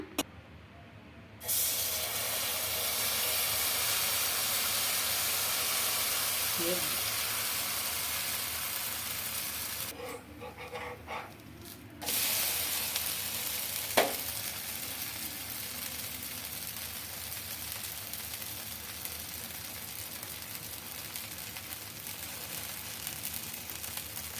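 Garlic wheat-flour dosa sizzling on a hot pan and flipped to cook both sides, a steady close hiss broken by a short pause mid-clip when it is turned, with a faint clink.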